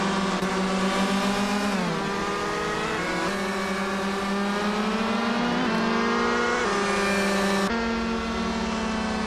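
Howling 2012 shifter kart engines in a racing game, a steady high-pitched drone with rising and falling revs as gears change, loud and continuous for several seconds.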